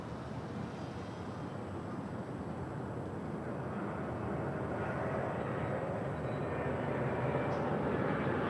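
Delta Airlines airplane at an airport, a steady broadband jet roar that holds throughout and swells slightly toward the end, at middle distance.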